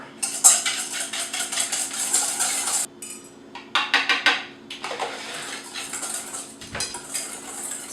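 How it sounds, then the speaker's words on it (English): Egg beaten with sugar and corn flour in a bowl: quick, clattering whisk strokes against the bowl in bursts, with a brief pause partway through and a softer stretch near the end. "I'm beating my egg with sugar and corn flour"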